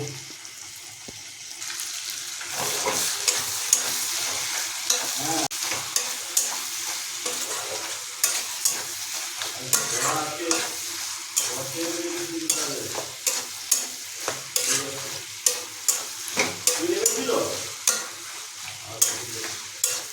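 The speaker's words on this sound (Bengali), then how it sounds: "যেহেতু আমরা খাসি মাংসের চর্বির উপর আলু কুচি যোগ করছি তাই এটাকে খুন্তিতে ভালোভাবে নাড়িয়ে নেব" Chopped potato stirred with a spatula in sizzling mutton fat for mutton ghugni, steady close frying hiss broken by frequent sharp scrapes and taps of the spatula against the pan.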